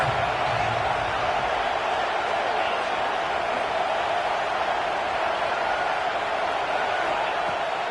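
A football stadium crowd at Louisville roars in a sustained, even wash of cheering and noise, a broad far-off din filling the whole stretch with no distinct breaks.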